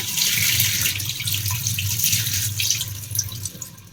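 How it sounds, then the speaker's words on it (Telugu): Tap water runs steadily into a vessel while soaked rice and lentils are rinsed for dosa batter, a close, continuous splashing rush with faint swirling and drips. "ఇవన్నీ నేను వాష్ చేసి మళ్ళీ చూపిస్తాను మీకు"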